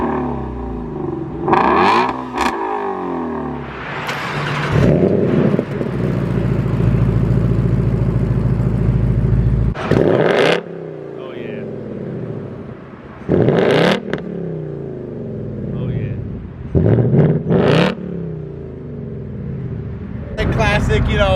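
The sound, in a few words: Ford Mustang V8 engine revving, stock exhaust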